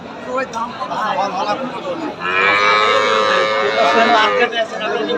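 Sahiwal cattle lowing at a busy cattle market, with long drawn-out moos rising over a steady babble of crowd chatter close by.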